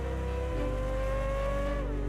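A naturally aspirated flat-plane-crank V8 built specifically for the 8th-generation Chevrolet Corvette C8 Z06 hums at a steady, loud pitch, stepping up at about half a second and holding a sustained exhaust note with no talking.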